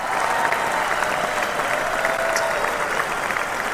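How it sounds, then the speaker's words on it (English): Sustained audience applause at a live show hosted by a ringmaster, a dense, steady wash of many hands clapping at even loudness throughout, with faint crowd voices mixed in. "Got to give them the extended super applause"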